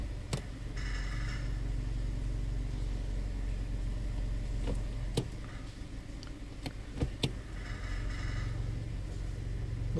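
A Kia Cerato idling with an intermittent knock under the hood, sharp isolated ticks scattered irregularly over a steady low engine hum, fairly faint and close.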